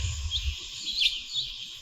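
Birdsong ambience in an Unreal Engine 5 game level, with soft high chirps repeating every half second or so over a faint steady background hum, no voices.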